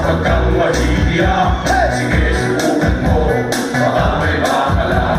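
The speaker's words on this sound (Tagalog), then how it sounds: "Palakpak na may sigawan, everyone." A wedding-party audience applauding and cheering: a loud, continuous mass of clapping, shouts and whoops that fills the whole stretch without letup.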